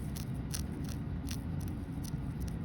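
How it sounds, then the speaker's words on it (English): Alum crystals spilled onto blue paper, a few light, crisp ticks and skittering taps at close range, very faint over a low background hum. "let's spill some out on the blue paper"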